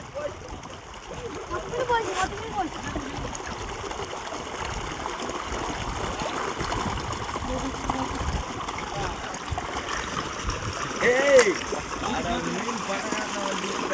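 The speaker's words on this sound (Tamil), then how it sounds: "பாருங்க நிறைய தண்ணி வருது" Water rushes strongly into a shallow pond where fish are being caught with a net, a steady close broadband flow with small splashes, with voices talking over it.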